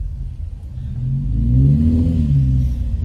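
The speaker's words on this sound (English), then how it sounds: "He's driving his chains like 5 miles an hour." A car fitted with snow chains crawls along a snowy Big Bear street at about five miles an hour. Its engine makes a steady, close rumble that swells slightly and holds.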